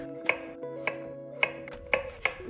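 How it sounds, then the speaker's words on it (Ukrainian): A knife slices a cucumber into thin strips on a cutting board, five crisp chops at an uneven pace over soft background music. "Нарізаю дрібними шматочками, я нарізаю соломкою на цей раз."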